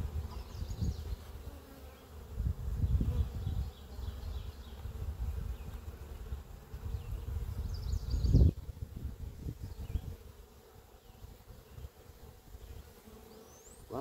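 Honeybees buzz steadily around an open garden hive, a dense, close hum of many wings with a few louder passes swelling near the middle, and no voices.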